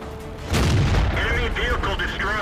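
A World of Tanks tank gun fires with a deep, heavy boom that rolls on for about a second, followed by a string of warbling electronic game tones as a vehicle is destroyed. The sound is loud and close.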